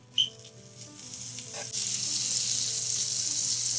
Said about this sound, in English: Medium heat, butter, saute them for a while,